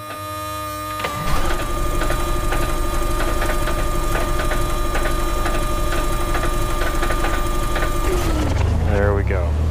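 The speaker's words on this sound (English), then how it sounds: "Motor start." A simulated Cessna 182 engine starts in a Prepar3D home cockpit: a brief crank, then a steady, loud, pulsing propeller-engine drone that runs without a break and cuts off near the end.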